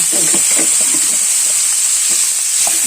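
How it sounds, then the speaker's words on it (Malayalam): Mustard seeds crackling in hot oil with turmeric powder, a loud continuous sizzling hiss dotted with quick popping bursts, close up. "നമ്മൾ കടു പൊട്ടട്ടെ അപ്പോൾ നമ്മുടെ കടുകെല്ലാം പൊട്ടി"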